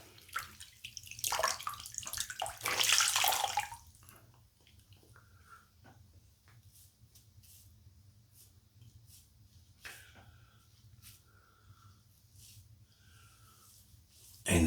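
Water splashes and drips as a face is wetted with a microfiber cloth before a shave, a brief burst of splashing followed by quiet drips and small movements.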